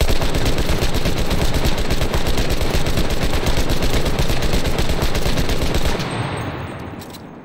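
Type 1 1930 submachine gun firing in Enlisted's Pacific Axis campaign: a loud, continuous rapid-fire stream of shots for about six seconds, then stopping as the echo tails off.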